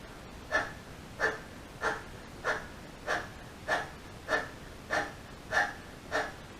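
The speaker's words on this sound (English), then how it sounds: "Put your tongue out, start panting like a dog." A person pants rapidly like a dog with the tongue out during a Kundalini yoga kriya, ten evenly spaced breathy huffs, close and clear.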